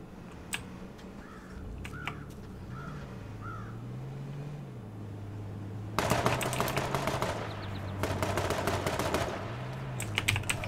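Bursts of gunfire in a survival video game, starting after several seconds as a loud, dense crackle of rapid shots that continues to the end with brief gaps, over a faint low drone and a few bird-like caws early on.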